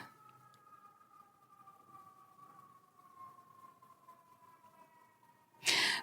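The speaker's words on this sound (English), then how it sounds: "here come the sirens." Emergency vehicle sirens wail faintly in the distance as a long, slowly falling tone, ending with a sudden loud noise burst close by.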